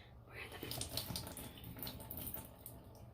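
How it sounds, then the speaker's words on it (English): Tap water runs quietly into a sink while a plastic water bottle is rinsed, a faint, uneven splashing hiss with small bursts as the stream hits the bottle. "We're gonna rinse the water bottle because we do not want to infect her eye with this."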